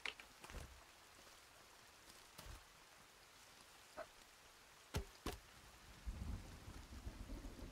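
Steady rain falls through a stormy Sons of the Forest game scene, faint and even, broken by a few sharp crackling bursts and a low rumble near the end.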